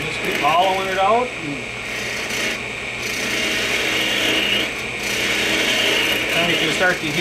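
A wood lathe hums steadily while a small gooseneck hook tool scrapes and rasps inside a spinning miniature wood piece, hollowing it in repeated bursts of harsh, grinding texture.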